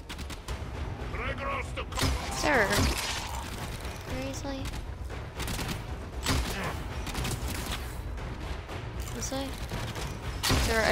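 Gunfire in the video game Warframe: repeated sharp shots and bursts over a dense, noisy game soundscape with effects, while a voice talks over it.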